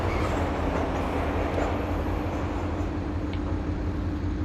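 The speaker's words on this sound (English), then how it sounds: "Quite loud with the train, isn't it?" A train rumbles loudly past a bus in a steady, heavy roar with a low rail drone, close by and continuous, with no talk over it.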